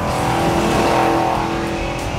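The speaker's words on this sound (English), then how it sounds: "TAs came stocked with side megaphone exhaust, letting the driver enjoy the rumble of that 340" Pontiac Trans Am with a 340 engine and side megaphone exhaust, a loud, steady throaty rumble as the car drives past at speed, holding one engine tone for two seconds.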